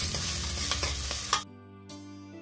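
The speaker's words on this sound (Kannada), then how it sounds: "ಸ್ವಲ್ಪ ಈರುಳ್ಳಿ ಇದು ಹಸಿ ಇದು ಸ್ಮೆಲ್ ಹೋಗೋ ತನಕ ಒಂದು ಸ್ವಲ್ಪ ಫ್ರೈ ಮಾಡ್ಕೊಳ್ತಾ" Raw onion with pepper frying in a pan for a chicken curry, a busy sizzle with stirring scrapes that cuts off abruptly, leaving a low hum.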